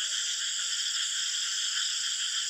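Black-spotted toads call in their rainy breeding season, a continuous, dense chorus of steady trilling croaks with no pauses, fairly loud and even throughout, with no voices present.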